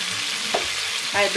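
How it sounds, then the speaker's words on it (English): Onion and salted fish frying in oil give a steady hiss with a couple of brief stirring scrapes, close by and moderately loud, no voices. "Now I cook my onion and the salted fish in the oil first."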